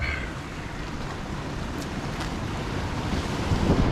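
Ocean waves breaking against coastal rocks, a steady broadband wash of surf with wind noise on the microphone, swelling slightly louder toward the end with no talking.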